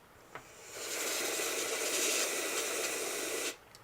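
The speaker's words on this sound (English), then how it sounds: "I'm going to spray the back just to cool it down a little bit" A can of dust remover spraying onto the back of a thermNeon tube clock, a short tick then a steady loud hiss lasting about two and a half seconds before stopping abruptly, close and alone.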